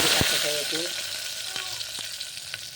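Mustard seeds and cumin hit hot oil in a pan while a Maharashtrian matki curry is cooked, giving a steady close sizzle with scattered sharp pops and crackles throughout and faint spoon scraping.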